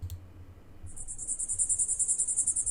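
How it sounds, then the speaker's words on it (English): A cicada sound effect starts with a faint low hum, then a high, rapid pulsing buzz enters about a third of the way in and holds steady and fairly loud to the end. "here's some nice cicada audio"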